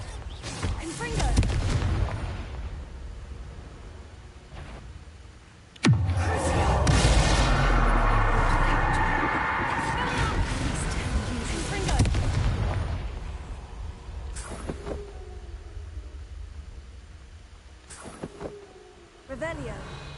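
Confringo fire-blasting spells in a fantasy video game set off a series of heavy booming explosions, with a loud crackling blast midway and a rumbling roar trailing after it, under a speaking voice.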